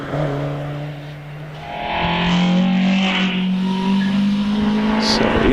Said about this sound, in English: The Alfa Romeo of Paul Holmes coming into the S's